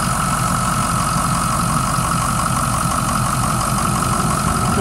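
A 6.0-litre engine on a 2007 Ford F-350 dump truck idles steadily and close by, a constant low rumble with no pauses and no voices.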